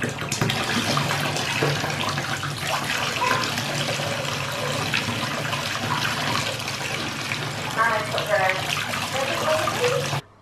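Bath water runs steadily from a tap into a tub, a loud close broadband gush that holds constant for about ten seconds before cutting off abruptly.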